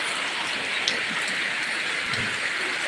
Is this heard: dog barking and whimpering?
no